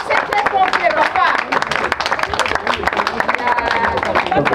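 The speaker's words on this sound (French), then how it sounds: "Applaudissez très fort pour les papas." A crowd at a school celebration in Brazzaville claps for the fathers on Father's Day, a dense, steady patter of applause running throughout with voices mixed in.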